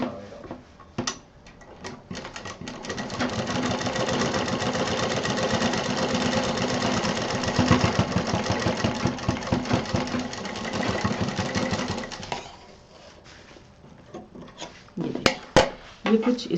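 A sewing machine stitches along the black tape beside a zipper on fabric, running fast and steady for about eleven seconds before stopping, followed by a few brief clicks and handling knocks.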